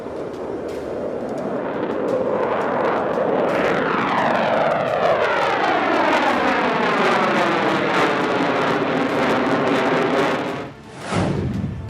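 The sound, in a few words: Rafale and F/A-18 Hornet fighter jets flying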